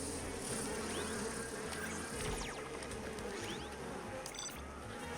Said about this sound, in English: Oh no, I forgot about the bees. I'm going to leave these bees on